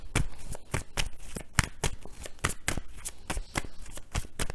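Tarot cards are shuffled in a series of crisp, rapid riffling bursts, close and clear, repeating in an irregular rhythm.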